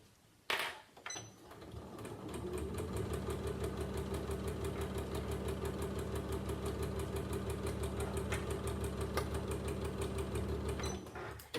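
A sewing machine back tacks along the seam of a drawstring knitting or crochet bag, a steady fast mechanical whirring and needle chatter running continuously after a brief start, close and alone.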